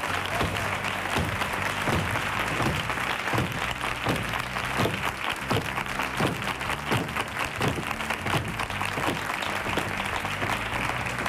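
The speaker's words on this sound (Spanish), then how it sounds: "Y un aplauso enorme" A TV studio audience at a Spanish copla show applauds, dense sustained clapping from many hands, loud and close throughout with no talk over it.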